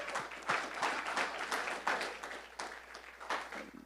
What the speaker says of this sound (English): absolutely, let's clap it up